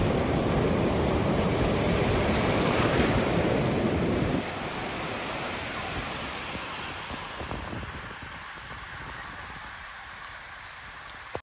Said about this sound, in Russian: О, волны, волны! Тихий океан!